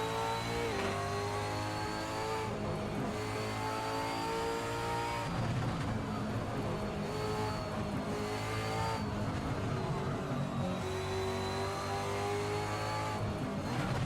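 A supercar engine in the racing game Assetto Corsa at Tailem Bend revs hard and repeatedly through the gears, with rising harmonic whines, sharp drops at each shift and faint tyre squeal.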